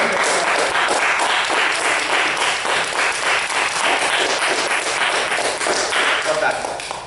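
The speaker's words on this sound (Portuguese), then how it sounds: "Vamos dar uma salva de palmas para o Senhor Jesus." A church congregation stands and claps during a Portuguese-language service, loud dense applause sustained for several seconds with sharp individual claps audible, fading slightly at the end.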